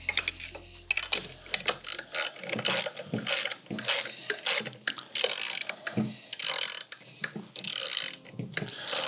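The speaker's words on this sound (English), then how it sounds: "everything is a stop nut, so I'm going to get these snug down real well" A hand wrench ratcheting as stop nuts are snugged down on a steel tent jack, bursts of quick metallic clicks with brief pauses between them, close and fairly quiet.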